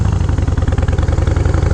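A motorcycle fitted with Short Shots exhaust and quiet baffles, heard close and loud as a deep, throbbing engine pulse with a steady, fast rhythmic beat and some mechanical clatter.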